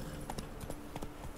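Horse hooves clip-clopping in the video game The Witcher 3: Wild Hunt, a quiet, even walking rhythm of soft thuds over a low background hum.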